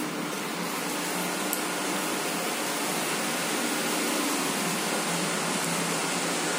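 Steady, dense whooshing hum fills a tower block lift motor room two floors above the top floor, continuous and even throughout with no talk.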